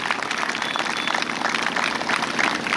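A school audience at a Pongal celebration applauds, a dense, even patter of many hands clapping that holds at a moderate level with no break.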